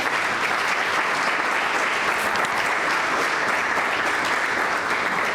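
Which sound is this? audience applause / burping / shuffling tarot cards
audience applause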